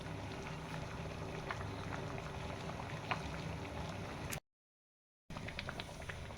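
A pot of khichuri made with moong and other lentils and mixed fried vegetables bubbles steadily on the stove, a dense continuous simmering hiss with faint pops, briefly cut to silence near the end.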